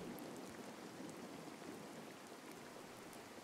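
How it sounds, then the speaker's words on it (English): Heavy rain heard from inside a hut in the survival card game Card Survival: Tropical Island, a steady, even wash of rainfall with no breaks or voices. "Heavy rain outside."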